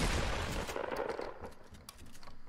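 Fortnite gunfire during a competitive match: rapid, loud bursts of repeated shots rattle in quick succession up close, then thin out into lighter, spaced pops.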